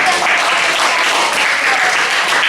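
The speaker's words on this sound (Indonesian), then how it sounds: "berikan aplaus dulu" A room of people clapping loudly and continuously at a class presentation, a dense even wash of applause with no pauses or voices.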